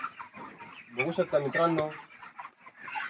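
Chickens cluck and call in a large poultry shed on a farm, a busy cluster of bird sounds close by, with someone talking over them.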